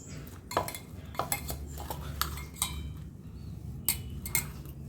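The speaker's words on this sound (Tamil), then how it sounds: "இப்போ பாருங்கள், அந்த மசாலா எல்லாத்தையுமே இந்த சோயா சாஸில் சேர்த்து எல்லாத்தையும் பிரட்டி விட்டுக்கலாம்." A spoon scrapes and clinks against a pan while masala is stirred into a soya gravy, with irregular metallic knocks over a low, steady background hum.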